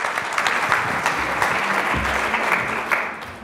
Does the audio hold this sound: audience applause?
yes